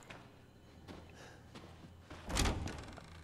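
A heavy scorpion door in Resident Evil 7 slams shut in one dull, booming thud. It comes after a few softer knocks and clatters, and no one talks over it.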